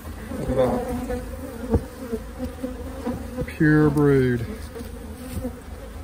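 Honey bees buzz densely around an open hive at a farm, a close, continuous drone with individual insects whining past, while someone speaks briefly.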